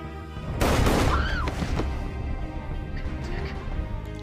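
Gunfire in a film scene of a man shooting a woman dead, a single loud sharp blast near the start followed by crashing debris and a lingering rumbling tail that fades under low ambience.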